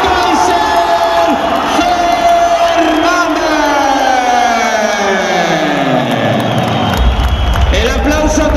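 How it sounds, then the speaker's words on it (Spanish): A boxing crowd at a Spanish middleweight championship bout cheers and applauds the new champion, a loud continuous roar with whistles while an announcer's voice carries over it through the whole stretch. "El aplauso también para José Fandiño, magnífico combate el que nos acaban de ofrecer"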